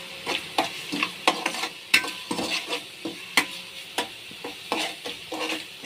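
Spoon stirring turmeric, coriander powder, garam masala and salt in a pan for Mumbai vada pav filling, with repeated scraping and clinking strokes at a steady rhythm, close and fairly loud, no talk.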